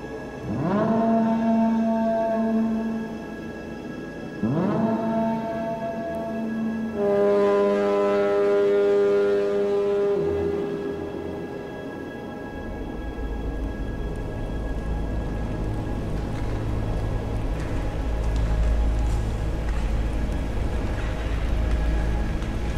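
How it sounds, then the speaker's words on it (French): Deep, sustained sampled ship foghorn blasts from a virtual instrument sound in sequence, long tonal notes overlapping, then a low rumbling drone continues underneath. "Maintenant, deux notes, on a les sirènes de bateau, on a tout l'ambiance."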